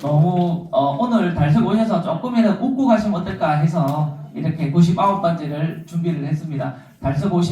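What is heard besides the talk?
No everyday noise stands out behind the speech.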